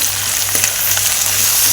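Bitter gourd with onion and tomato sizzles steadily in a hot pan, a dense, even, close frying hiss with faint crackles and no talk.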